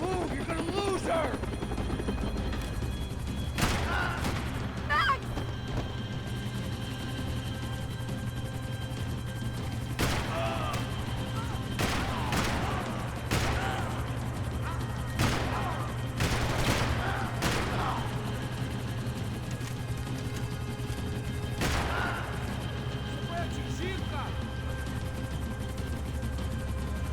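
Gunfire at a helicopter in Max Payne 3: scattered sharp shots and short bursts over a steady low helicopter rotor drone, with shouting voices at times.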